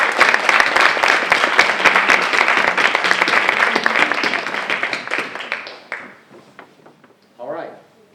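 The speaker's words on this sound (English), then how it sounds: "Round of applause for the fourth round." Applause from an audience at a school spelling bee after a round: dense, steady clapping for about six seconds that then thins out into a few scattered claps and a brief murmur.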